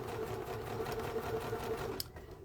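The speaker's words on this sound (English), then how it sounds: "we are sewing together in the sewing room" A sewing machine stitches a seam on a grocery tote bag with a fast, steady mechanical whir and rapid needle chatter, running continuously before stopping abruptly near the end.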